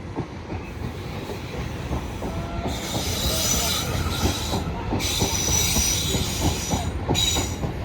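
Class 450 electric train 450 008 pulls away from Clapham Junction on a Hampton Court to London Waterloo service, a steady rolling rumble with rhythmic wheel clicks and bursts of high squeal, close and continuous.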